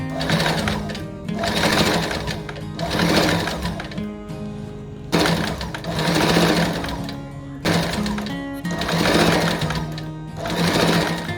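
A sewing machine stitches a dress in repeated bursts of one to two seconds, separated by brief pauses, running a steady whirring rattle up close.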